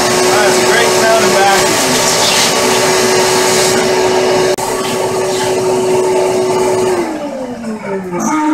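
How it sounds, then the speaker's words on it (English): A vacuum cleaner drones steadily and loudly at close range with a high whine, then its pitch drops as it winds down near the end. "That vacuum never ceases to make me chuckle."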